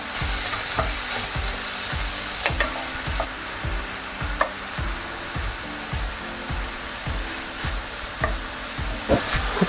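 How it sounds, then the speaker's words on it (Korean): Onion and sausage stir-fried in a pan, a steady loud sizzle with repeated rhythmic scrapes and clacks of a utensil stirring throughout, no talking. "양파와 소시지를 넣어줍니다. 그리고 잘 섞어줍니다."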